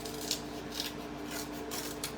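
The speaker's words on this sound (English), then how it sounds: "So get out my big scissors" Big scissors cutting a half sheet of cardstock paper into strips for card-making, a few quiet rhythmic snips spaced about half a second apart over low background hum.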